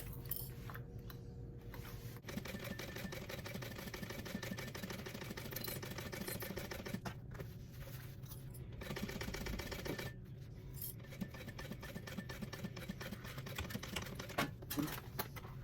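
Sewing machine running a 1/8 inch top stitch on a purse, a steady fast mechanical chatter held at an even level with a few brief pauses, faint and close.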